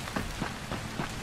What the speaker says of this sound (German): Ist ein super Regenwetter hier.